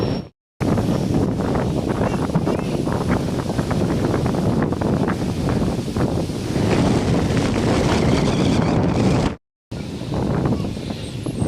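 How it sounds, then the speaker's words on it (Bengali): Strong stormy wind gusts hard against the microphone as a dense, roaring rush that stays loud and steady, with two brief cuts to silence. "ঝড়ো হাওয়া বইছে"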